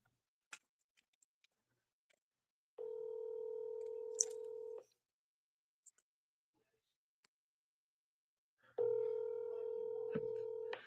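Two steady telephone ringback tones, each about two seconds long, heard over a speakerphone with faint clicks in the quiet between them.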